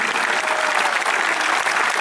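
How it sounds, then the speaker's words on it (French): Audience applause at a track cycling points-race event in Montargis, steady dense clapping filling the whole stretch without a break. "je vais vous demander de les applaudir tous très très fort"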